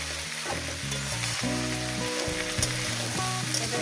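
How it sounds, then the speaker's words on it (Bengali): Dry red chillies frying in hot oil in a pan give a steady, close sizzle throughout, with low, music-like tones running underneath. "পাঁচটি শুকনো লঙ্কা আমি ভেজে নিই কালারের জন্য"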